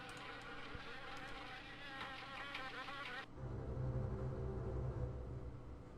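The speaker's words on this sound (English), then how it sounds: "Wasps?" Wasps buzz in the video game Harvester with a dense, whining drone. The buzzing shifts abruptly into a lower, rougher hum partway through and stays steady and close throughout.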